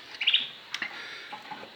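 Pet canaries, including a white pair, chirp inside their cage at home in a few quick, bright bursts near the start, followed by softer scattered tweets and faint background noise.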